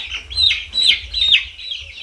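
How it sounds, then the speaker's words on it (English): Four-week-old chicks, about a hundred of them, kept together on a farm in Eswatini, sending out dense overlapping high peeps and chirps in repeated bursts. The flock sounds close and continuous, with no talking. "this is 100 chicks. 4-week-old chicks."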